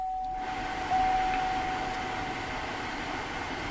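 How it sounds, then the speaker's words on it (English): Air conditioning fan blowing inside a 2011 GMC Acadia SLT, switching on after a brief quiet start and then holding a steady, even broadband whoosh with a faint tone early on, no talking. "and let's turn on the air conditioning."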